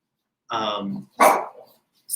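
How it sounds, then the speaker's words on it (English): A dog barks nearby in two or three sharp, loud bursts, the first a longer harmonic bark, with a short yip at the end and no talk over it. "sorry, my dog."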